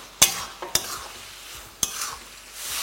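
Turmeric and chili powder being stirred in a pan: a few sharp utensil scrapes and knocks against the pan over a faint background sizzle, with no talking.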